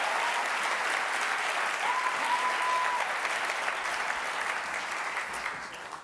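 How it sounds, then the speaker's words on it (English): Dense, sustained applause from a large festival audience for ocean explorer Sylvia Earle, steady and full for about five seconds before gradually thinning out near the end. "How about another massive round of applause for Sylvia Earle?"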